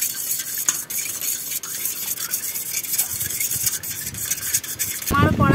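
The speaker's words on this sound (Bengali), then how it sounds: "এটাকে এখন আমি গুলে নিচ্ছি।" Eggs are beaten with salt and turmeric in a bowl: a steady, close scraping and clinking of a utensil against the bowl, with a louder clatter near the end.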